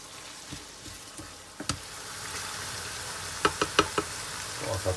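Tomatoes, peppers and onions frying in a pan, with a soft sizzle beneath a few sharp utensil knocks and clicks against the pan, close and moderately quiet, no talk.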